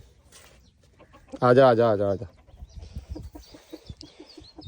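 Hens on a farm give one loud, drawn-out call that lasts about a second. Softer, scattered clucking follows close by, and a person speaks briefly.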